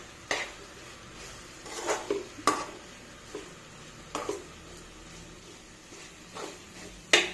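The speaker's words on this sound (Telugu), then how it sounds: "ఇలా స్ప్రెడ్ చేసుకొని తిప్పుకుంటూ వేయించుకోవాలి." Raw mango pieces being stirred and fried in a metal pan, with intermittent spoon scrapes and clinks against the pan over a low, steady background; no talk.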